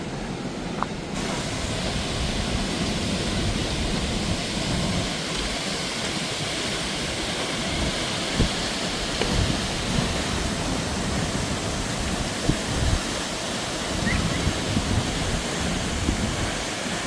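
Franklin Falls near Snoqualmie Pass, a steady broadband rush of falling water heard from a distance through trees on a forest trail, constant and unbroken for the whole stretch with no talk.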